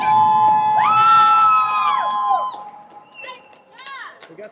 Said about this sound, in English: We got the Conley cheering section here.